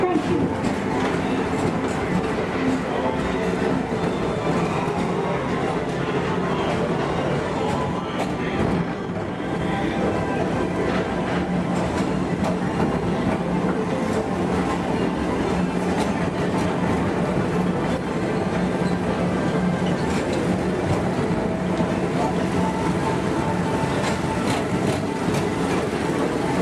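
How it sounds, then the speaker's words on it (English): Tomorrowland Transit Authority PeopleMover ride vehicles glide along an elevated track at Walt Disney World, a steady loud rumble with rhythmic clatter and hum that continues without pause, with faint voices underneath. "Please keep forward-facing tentacles clear of oncoming Metroliner vehicles."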